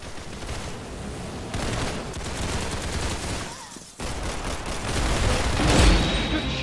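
Rapid gunshots and machine-gun bursts rattle through a Roblox Arsenal match, dense and loud over continuous game noise, building toward a heavier boom near the end.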